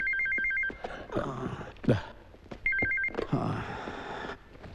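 An electronic telephone ring sounds in two clear bursts separated by a pause, fairly close, with scuffling and handling noises in between.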